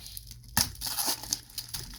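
A Goodwill plastic jewelry jar being cut open, close-up crinkling and crunching of plastic with short sharp snips, loud and with no talk.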